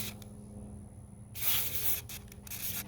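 A WD-40 white lithium grease aerosol can hisses out a spray in a steady burst of roughly a second and a half, close and fairly loud, followed by a shorter second spurt, over a quiet room background.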